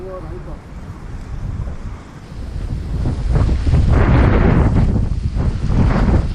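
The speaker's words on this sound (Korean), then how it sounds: "폭풍이야" Strong storm wind buffets the microphone during bass fishing from a boat, roaring and gusting louder toward the end with the rush of waves mixed in.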